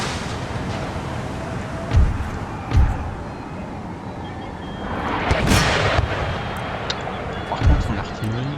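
Artillery booms in the Empire: Total War battle game, several heavy thuds and a rumbling blast spaced a second or so apart, under a lively background mix.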